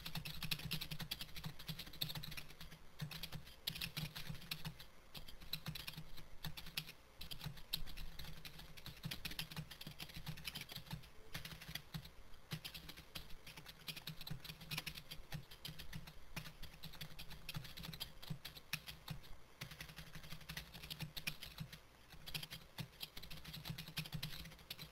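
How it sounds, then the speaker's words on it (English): Typing on a computer keyboard runs continuously and close for the whole stretch, a dense, even patter of key clicks with no talk. "And then you want to start typing your document."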